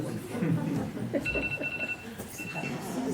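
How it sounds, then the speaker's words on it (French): A phone rings in a room, with short electronic tones coming and going at moderate distance while several people talk over it. "On peut couper le téléphone, il sonne, là, s'il vous plaît."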